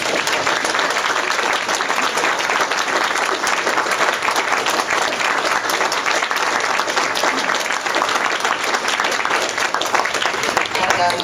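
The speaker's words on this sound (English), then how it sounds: "I think that deserves a round of applause." Sustained, loud applause from a large audience during an interview with a puppeteer, a thick, even roar of many hands clapping without pause for over ten seconds, with faint crowd murmur underneath.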